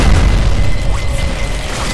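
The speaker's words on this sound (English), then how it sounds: "Missile launcher." A missile launcher firing in the video game McDroid, a loud booming blast with a rumbling low tail lasting about two seconds, heard alone.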